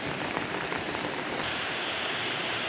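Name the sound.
light rain at riverside cafe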